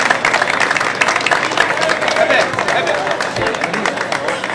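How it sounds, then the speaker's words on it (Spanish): A crowd at a livestock fair in Carrizal de Ingenio applauds the winners of the San Isidro Labrador 2011 tournament, dense continuous clapping mixed with crowd murmur and voices. "Ese aplauso."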